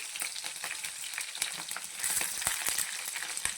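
Green chilies and fresh coconut fry in a pan with a steady, dense sizzle and crackle, broken by occasional soft stirring scrapes, close and moderately loud, with no talking.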